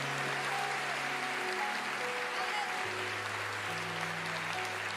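A church congregation claps steadily throughout, a dense, even wash of applause with sustained musical tones beneath it.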